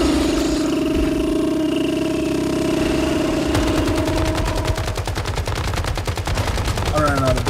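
Minigun fire in the video game Once Human, beginning after an engine-like whir and rising into a rapid, steady, loud stream of shots that continues for several seconds.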